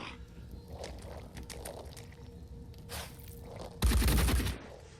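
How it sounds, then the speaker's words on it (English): Acid grenades burst in the tactical video game Phoenix Point, one loud broadband blast lasting under a second over a low rumbling game soundscape, preceded by fainter crackling hits. "Grenades are going against our defender here, who is gonna die. These are acid grenades."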